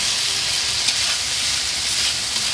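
Boiled potatoes dropped into frying masala, giving a loud, continuous hissing sizzle that stays even throughout with no speech.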